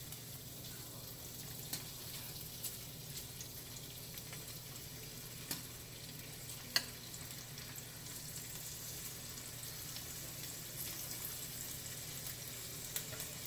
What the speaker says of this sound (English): Not fry them, just brown them.